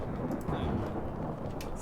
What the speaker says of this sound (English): it sounds like a thunderstorm